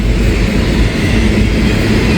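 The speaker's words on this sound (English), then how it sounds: "Pretty good train here." A CSX freight train loaded with huge stones rumbles past close by, loud and continuous, its heavy wagons filling the air with a dense, steady roar.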